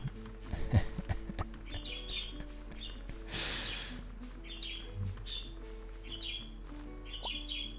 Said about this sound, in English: The birds are most definitely awake.